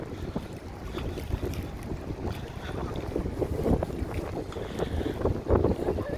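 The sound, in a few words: wind at Chicago lakefront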